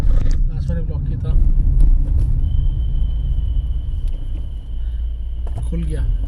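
A car rolls through the Faridabad toll plaza with steady low engine and road rumble close by, while someone talks over it in bursts at the start and end.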